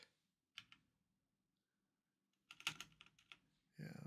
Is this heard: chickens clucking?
no